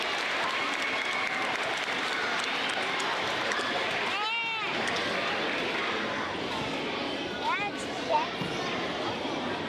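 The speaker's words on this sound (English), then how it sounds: "let's give our fifth graders a big round of applause" Crowd at a school awards ceremony applauding fifth graders with sustained, dense clapping, a couple of sharp chirps cutting through, and voices mixed in.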